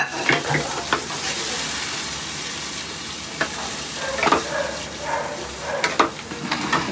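Sautéed masala is stirred into mutton curry in a pan. A steady sizzle carries scraping, spoon-stirring bursts that recur every second or so, close and fairly loud.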